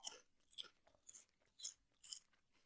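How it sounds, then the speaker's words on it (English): Close crunchy chewing of food, five or six distinct crisp bites and crunches spaced about half a second apart, with no talking. "I wonder how much the crunching is coming through."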